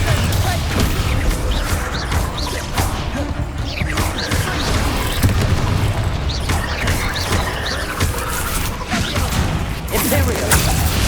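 A spell explosion from the Hogwarts Legacy video game on PS5, dense and loud throughout with repeated smashing, whooshing impacts and low booming rumble layered over continuous game effects.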